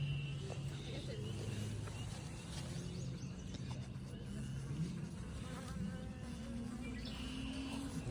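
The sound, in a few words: honey bee swarm buzzing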